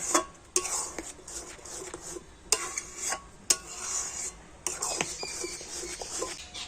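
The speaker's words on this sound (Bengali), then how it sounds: "এবার সবকিছু কিন্তু খুব ভালো করে এইভাবে মিশিয়ে নেব।" Raw jujube fruit is mixed with ground spices and turmeric by hand, giving a close, scratchy rustling with sharp clicks and taps in an uneven rhythm.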